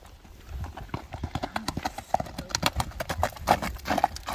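Horse galloping at speed in an outdoor showing of a fast Kyrgyz horse, with rapid clip-clopping hoofbeats in a steady driving rhythm, close and fairly loud, with faint voices in the background.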